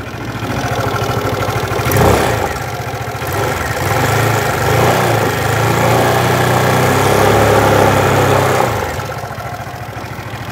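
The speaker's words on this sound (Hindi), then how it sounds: "और आपको मैं इसकी आवाज सुना देता हूँ इंजन की" An Aprilia SR160 scooter idles close by with a loud, steady engine hum. A brief throttle blip comes near the start, and the idle rises and settles again before easing off at the end.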